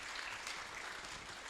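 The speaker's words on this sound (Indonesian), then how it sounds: "Jadi tepuk tangan dong buat Bapak Kepala Sekolah." Faint, dense applause from an audience at a high school graduation ceremony, honoring the school principal, steady broadband clapping throughout a short moment.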